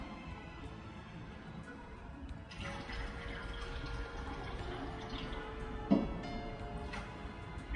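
Water from a portable alkaline ionizer runs and splashes steadily into a bottle, a continuous watery rush with a small clink partway through.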